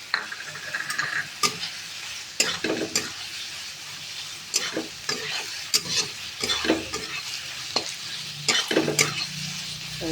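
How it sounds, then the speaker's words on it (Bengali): An elephant foot yam curry with coconut and a little sugar is stir-fried in a pan. A spatula scrapes and knocks against the pan again and again over a continuous close sizzle, with no one speaking. "ভালো করে এটা একটু কষাতে হবে।"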